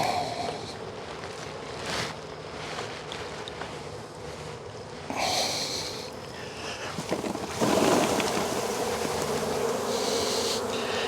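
Irritated honeybees buzzing loudly and continuously close by during a beekeeping mite check, with brief handling noises and a louder rush of activity near the end.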